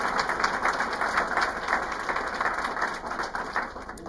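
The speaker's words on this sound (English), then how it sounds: "just another tremendous round of applause for everybody" A large audience claps in sustained applause at a historical society and museum award ceremony, a dense even patter of many hands holding steady at moderate loudness throughout.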